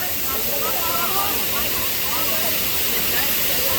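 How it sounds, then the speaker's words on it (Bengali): Heavy rain and rushing water at Khoiyachora waterfall in Chittagong make a dense, steady roaring hiss that stays loud and close throughout, with faint voices barely showing beneath it. "প্রচুর বৃষ্টি হইতেছে ভাই। বৃষ্টি শুরু হয়ে গেছে"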